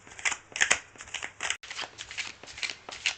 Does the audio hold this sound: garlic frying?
no